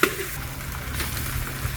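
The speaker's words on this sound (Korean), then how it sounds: "이런 식으로 이제 면 넣고 고기 넣고 야채 넣고 해가지고 볶는 게 팥씨유입니다." Pad see ew being stir-fried with noodles, meat and vegetables at a Chiang Mai street food stall in the morning, a steady close sizzle and frying hiss running throughout with faint stirring scrapes.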